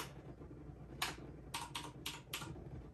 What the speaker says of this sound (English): I just had to find the right key because I'm using my keyboard.